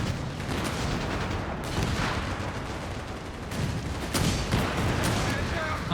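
Gunfire rakes a Panzer Pioneer squad in the real-time strategy game Company of Heroes 3, a dense, continuous crackle of shots and booming impacts under a commentator's talk.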